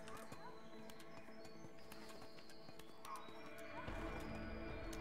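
A horse whinnies amid a busy stable scene in the video game A Way Out, with hoof clatter, birds chirping and background chatter throughout.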